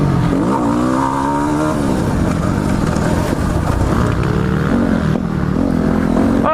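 A Yamaha WR250R motocross bike's engine revs hard and continuously on a dirt ride, its pitch rising and falling, loud and up close throughout with a rider's voice faintly mixed in.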